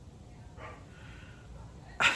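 A guard dog barks at something: one muffled, distant woof, then a sharper, louder bark close by at the end.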